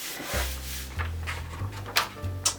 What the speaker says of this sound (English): just place this down on here, take a rubbing from it